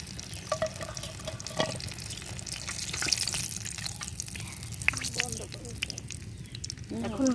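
Chicken frying in hot oil for a home-style fried chicken recipe gives a steady, crackling sizzle with occasional sharp pops and stirring clatter. A voice is heard faintly at times over it.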